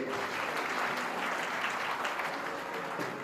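Audience applause at an education seminar of a community society in Gujarat, steady dense clapping from a crowd filling a few seconds, with faint voices beneath.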